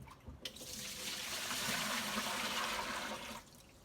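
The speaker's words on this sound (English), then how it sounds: "pretty clear water for that third rinse, so I'm going to put it down the drain" Rinse water from washing raw fleece pours down a drain in a steady gushing rush for about three seconds. It starts abruptly and stops cleanly, close and fairly loud, with no talking.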